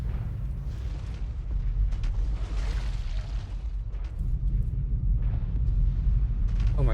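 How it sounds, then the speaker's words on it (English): Deep, continuous rumbling booms roll on without a break, like heavy explosions going off far away in a game battle. "you can hear the explosions in the distance"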